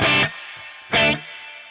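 Electric guitar run through reverb with the modulation mix turned all the way up, two loud struck chords each trailing into a long shimmering wash, with no talk.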